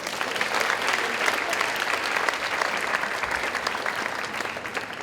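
Continuous, full applause from a school assembly audience at St Hilda's School fills the whole stretch, a dense steady clatter of many hands with no pause.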